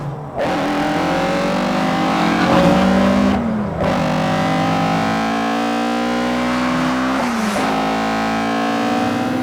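A small Ford Escort engine revs hard and climbs through the gears, loud and close, with brief drops between shifts, no talking.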